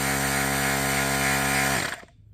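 A cheap portable air inflator set to 50 psi pumps up a hitch airbag, a loud, steady, buzzing motor drone that runs alone for nearly two seconds before abruptly cutting off.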